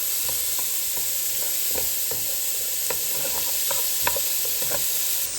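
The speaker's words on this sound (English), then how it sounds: "We're going to saute this down till they get translucent and real soft." Diced celery sautés in a pan with a steady broadband sizzle, while a spoon stirs it in soft, irregular scrapes and taps close by. No one speaks.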